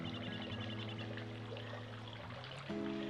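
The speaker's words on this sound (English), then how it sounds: "you can add in 1 cup of granulated sugar as well as a half a cup of water" Half a cup of water pours steadily into a pan holding a cup of granulated sugar for caramel, a continuous close trickle over a low steady hum, with no talking.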